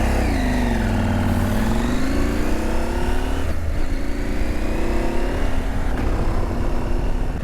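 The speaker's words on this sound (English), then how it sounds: "Feel that slipper clutch, working with the quick shifter." A Husqvarna Norden 901 motorcycle accelerating and clicking up through gears with its quick shifter and slipper clutch, the engine note climbing and dropping at each quick shift, loud and steady with wind noise.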